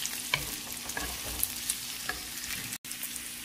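Mixed vegetables fry in a pan with a close, steady sizzle, punctuated by a few sharp spoon clicks and scrapes from stirring, and one brief cut to silence near the end.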